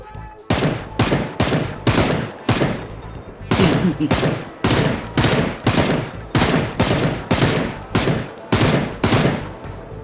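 Rapid bursts of automatic gunfire in the battle royale game PUBG, loud repeated volleys separated by brief pauses, continuing steadily throughout.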